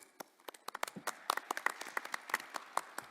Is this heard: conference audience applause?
yes